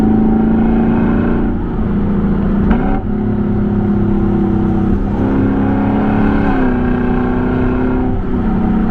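A 2022 Lexus LC500's V8 pulls hard and loud from inside the cabin, its pitch climbing through several gears with brief dips at each shift, with no talk over it.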